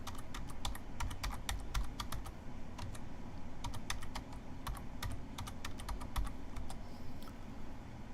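Rapid keystrokes on a computer keyboard run steadily throughout as the host IP address, username and password for an Econolite ASC3 traffic controller are entered, with a low background hum underneath.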